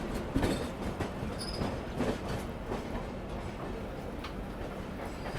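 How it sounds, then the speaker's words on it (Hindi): Indian Railways Toofan Shatabdi train pulling out of New Delhi station, heard from inside an AC chair car: a steady low rumble with rhythmic wheel clacks and occasional faint squeals. "फाइनली हम लोग निकल चुके हैं नई दिल्ली रेलवे स्टेशन से"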